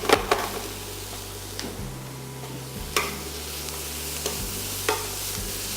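A knob of butter sizzles in a pan with fried onions alongside Riverine beef scotch fillet steak, a steady close crackle with scattered sharp pops and ticks, a low hum running underneath and no voices.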